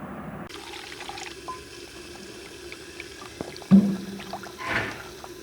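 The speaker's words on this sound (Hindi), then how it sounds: "काली मिर्चों में थोड़ा सा पानी डालेंगे" Water is poured onto black peppercorns in a kitchen, a soft trickling splash with a couple of clearer bumps and a short pour near the end, set against low room noise.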